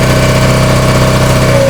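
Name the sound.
Honda P40 pressure washer engine running at max RPM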